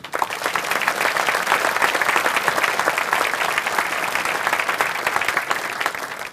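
A large crowd applauds steadily and loudly at an Army change of command ceremony for the 21st Theater Sustainment Command, troops on the field; the dense clapping holds for the whole stretch without talk.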